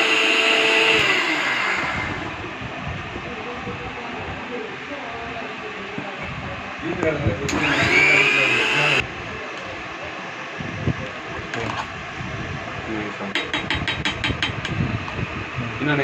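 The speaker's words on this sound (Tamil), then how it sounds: "இதை வந்து இப்போ நம்ம நல்லா டைட்டாக கிரைண்ட் பண்ண போகிறோம்" A mixer grinder whirs loudly while grinding green chutney, running in bursts with pauses, pitch shifts and rattling in between; no one speaks.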